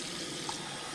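Water running steadily from a tap during a resin casting session, a continuous broadband splashing hiss heard alone for a brief moment.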